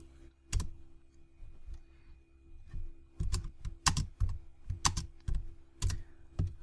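Keys on a computer keyboard are typed in irregular clusters of sharp clicks, close and fairly quiet, with pauses between bursts and no talking.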